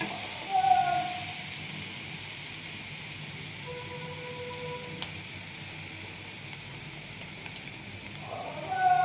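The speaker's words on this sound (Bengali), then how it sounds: "রসুন পেঁয়াজটাকে ভালোভাবে কষিয়ে ভেজে নেব।" Onion and garlic fry in a pan for a raw-mango fish kalia, a soft, steady hiss of sizzling oil with a few faint squeaky tones and brief rattles near the start and end.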